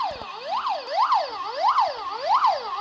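Police car siren in a video game chase wails in a rapid repeating up-down cycle, loud and close, with no talk over it.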